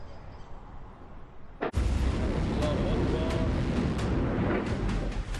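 Bombs explode in Gaza: after a quiet rumble, one sharp, heavy blast hits and is followed by a sustained roaring din and scattered cracks, with faint voices in the background.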